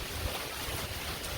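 Wind gusts through a thunderstorm and buffets a phone microphone outdoors, making a steady, loud rush of broadband noise with low rumbling and no clear breaks.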